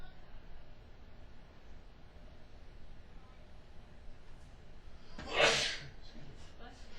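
A single sharp sneeze bursts out near the end, loud and close, over a steady hum of background noise at a college baseball game between Armstrong and USC Aiken.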